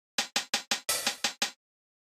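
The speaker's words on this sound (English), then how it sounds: "So the pattern we'll have is just 4 closed hi-hats, the open hat, and then the closed ones again." Synthwave-style drum machine hi-hats: four crisp closed hits, one longer open hat, then two more closed hits, in a quick even rhythm, loud and isolated.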